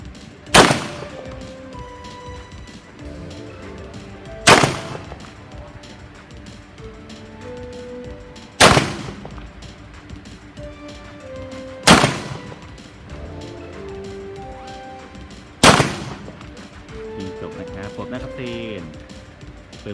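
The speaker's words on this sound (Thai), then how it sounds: "เริ่มยิงระยะ10เมตรครับ" Five loud, sharp 9 mm shots from a CZ TS 2 competition pistol fired at 10 metres, evenly spaced a few seconds apart, each a crisp crack with a short ringing tail.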